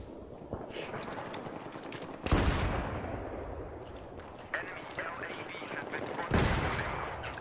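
An M240 machine gun fires in Battlefield 3, with sharp bursts and heavy thumps breaking through ongoing game gunfire while a player talks throughout.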